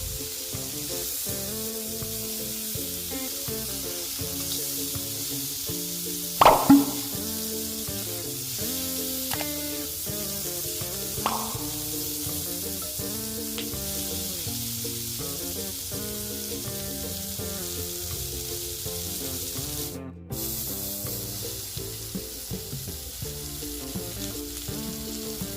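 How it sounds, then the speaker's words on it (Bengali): Pointed gourd (potol) frying with turmeric in a pan while being stirred: a steady close sizzle runs throughout, with a couple of sharp scraping stirs near the start. "পটলগুলোকে ভালো করে নেড়ে নেড়ে ভেজে নিতে হবে।"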